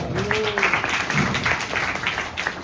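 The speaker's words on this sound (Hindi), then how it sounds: "तालियों के साथ स्वागत करिए सबका" Audience applause at a devotional celebration in Sultanpur fills the moment as a dense, steady wash of many hands clapping, with voices mixed in underneath.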